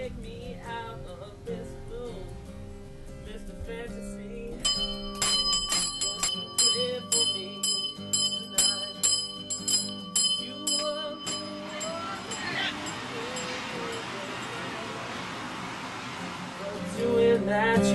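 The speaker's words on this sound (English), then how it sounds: "Ring that bell." A bell rings in a series of bright, resonant strikes that stand out against a musical backdrop, loud and close, then fade into a wash of sound.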